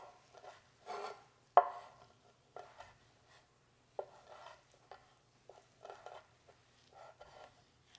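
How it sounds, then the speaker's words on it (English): A knife slices through four stacked strips of cold bacon on a cutting board, making soft, scattered chopping taps and thumps that sound close but quiet, with short pauses between cuts. "And I have all 4 of the bacon slices together just to make it a little bit easier to cut."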